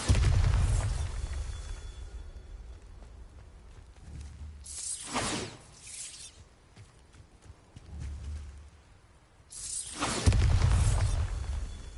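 Bombarda explosion spells cast in a Harry Potter video game: two heavy booming blasts a few seconds apart, each with a deep rumbling low end and a bright crackling burst, close and loud over quieter game ambience.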